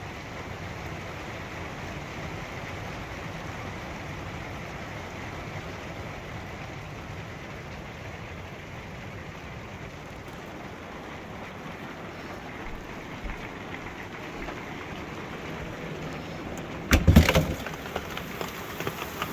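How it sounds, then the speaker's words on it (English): Steady, dense hiss of a rainstorm falling continuously on an RV, with a few brief knocks and crackles near the end. "You guys can hear the rain coming down."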